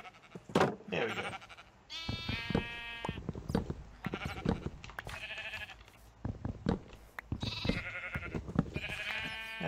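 Video game sheep bleat repeatedly in a pen, a string of loud, close, overlapping bleats with short pauses between them and no talk.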